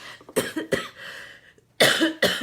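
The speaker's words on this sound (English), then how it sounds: "Don't mind me, I still have the cough." Several harsh coughs come in quick bursts, close and fairly loud, with short pauses between them.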